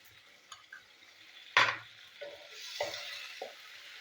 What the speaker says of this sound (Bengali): তো পেঁয়াজটা আমি ভাজি।